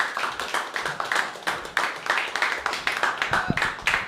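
An audience at a comedy open mic claps steadily, a dense, moderately loud patter of many hands that keeps up for several seconds.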